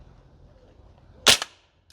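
A Maruyama ISO556 airsoft rifle fires a single 0.3 gram BB through a chronograph: one sharp, close crack with a short rattling tail, followed by a faint tick, after near silence.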